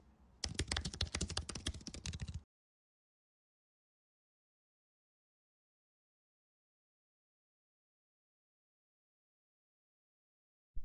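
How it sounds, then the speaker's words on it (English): Rapid keystrokes on a computer keyboard while a password is entered, a dense clatter of close key presses lasting about two seconds before silence. "Then here on the password, you need to type the password that you created for this account."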